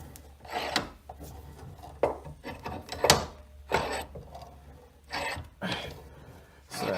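A repaired Craftsman 6-inch bench vise is worked back and forth, its screw and jaws producing a run of close, uneven rasping and grinding scrapes with short pauses between strokes.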